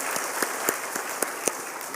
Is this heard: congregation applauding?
yes